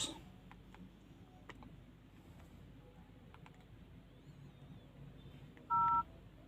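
Several DTMF telephone keypad tones near the end of a quiet stretch of light tapping, as a number is dialed on a phone for a raffle-winner call.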